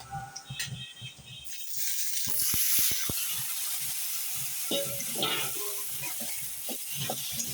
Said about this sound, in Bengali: এখন পেঁয়াজটা ভাজা ভাজা হইলে মাছটা ছেড়ে দেবো